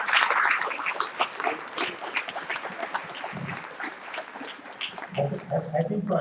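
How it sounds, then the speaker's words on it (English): Audience applause at a conference debate on work-life balance and productivity, a dense wash of clapping that carries on for several seconds with speech mixed over and beneath it. "having a big round of applause right now"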